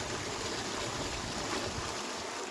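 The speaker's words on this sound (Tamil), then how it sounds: "இங்கே தண்ணி வாட்டர் ஃப்ளோ செமையாக இருக்குது" Strong, steady rush of flowing water at an Andaman beach resort, a continuous broadband wash that stays even and fairly loud throughout with no voices over it.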